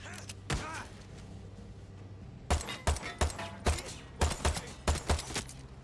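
Gunfire in Far Cry 6: a lone shot, then a rapid run of sharp, heavy shots in quick bursts, loud and close.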